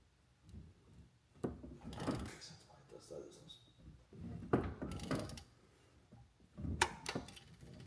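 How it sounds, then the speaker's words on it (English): A ratchet turns the engine crank pulley clockwise on an Acura TSX wagon K24, giving faint mechanical clicks and clunks in short bursts, with people talking over it throughout. "is now going to rotate the crank pulley, and what we're going to do is we're going to do a full rotation"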